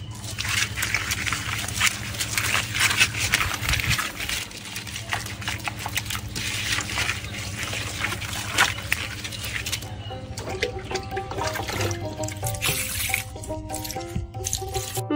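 Water running and dripping while a fish is rinsed and cleaned at a sink, an irregular trickle and splash close by, with a brief faint voice partway through.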